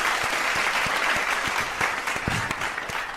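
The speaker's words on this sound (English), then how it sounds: "let's give a round of applause" An audience claps for a guest at an eCommerce SEO event, a steady wash of applause with a few sharper individual claps standing out, fairly loud and continuous throughout.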